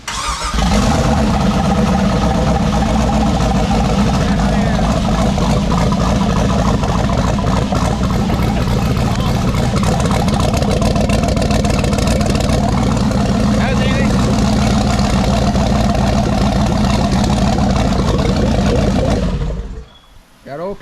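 A twin-turbo LS engine in a Monte Carlo fires up and holds a loud, rough, rumbling run for about twenty seconds, then cuts off abruptly near the end, with voices faintly under it.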